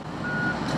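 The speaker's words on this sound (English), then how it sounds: "the dump trucks are just putting all the extra curves away right now" A dump truck on a construction site sounds its reversing beeper, a brief thin tone heard over the low rumble of heavy machinery and engine noise nearby.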